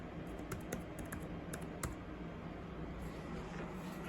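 Keys clatter in quick, uneven bursts as someone types a login on an unusual Chromebook laptop keyboard, fairly close over a steady low background hum with no talking.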